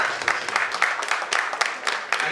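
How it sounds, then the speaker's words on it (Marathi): Audience at a school reunion event applauding together, a steady wash of many hands clapping with loose rhythmic peaks throughout, fairly close and full. "जरा जोरदार टाळ्यांचा गजर."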